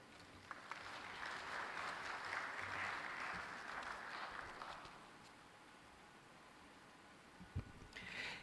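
Applause after a speech at an African coffee summit, a soft distant wash of clapping that swells and then thins out over several seconds, with a few scattered thumps near the end.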